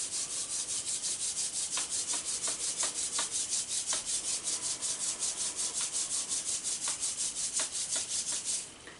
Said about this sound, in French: Frotte tes mains.